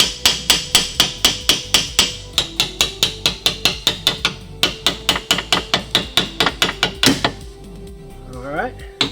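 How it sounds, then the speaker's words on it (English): Rapid, sharp hammer strikes ringing on metal, dozens of evenly spaced blows in quick succession, with a brief pause and a scrape near the end, as a hammer taps golf cart lift kit parts into alignment. "So don't be afraid to use the hammer and get it aligned."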